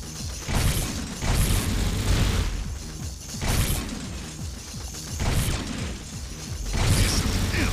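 Explosions and mechanical combat noise in Jak and Daxter during a fight with the Praxis spider boss, repeated heavy booms every second or two over a continuous clanking, grinding din.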